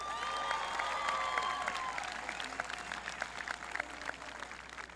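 An audience at a Licking Heights school ceremony applauds students in a hall. The clapping is moderate and sustained, with sharp individual claps growing more distinct toward the end and a faint tone lingering at the start.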